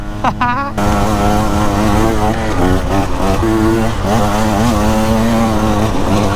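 A KTM EXC 150 two-stroke dirt bike revs hard while riding wall rides, its loud, buzzing engine rising and falling in quick throttle swells close to the microphone, with a brief rider exclamation at the start.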